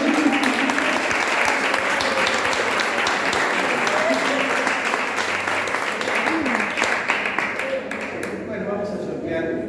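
Audience applause fills a book presentation hall, a dense, sustained wash of many hands clapping close and loud for nearly ten seconds, with voices murmuring underneath as it thins toward the end.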